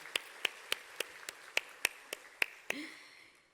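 Clapping in a Wednesday church service, about ten sharp, evenly spaced claps in a slow steady rhythm, fairly quiet and close, ending with a faint trailing sound.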